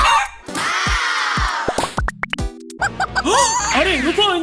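Chicken clucks from the video game Minecraft, several short pitched calls mixed with scraping game sounds and a voice talking over them.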